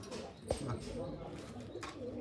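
Punjabi Malwai pigeons coo softly near a handler, low rolling calls under faint background noise with a brief knock early on.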